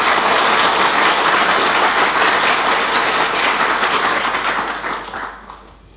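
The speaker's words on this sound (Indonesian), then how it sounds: "Kita kasih aplaus untuk Romo Aris." Church audience at a closing Mass giving a loud, sustained round of clapping that holds steady and then fades out toward the end.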